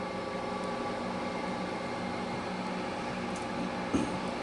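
A Ninja Foodi XL Pro Air oven preheats on a whole-roast setting at 350 degrees, giving a steady fan hum and drone close by, with a brief clunk near the end.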